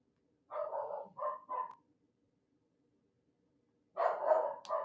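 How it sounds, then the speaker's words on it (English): Dogs bark indoors in two separate bursts, a quick run of three barks and then a longer volley of several barks after a pause, fairly close and loud with quiet between them. "We're having a bark fest."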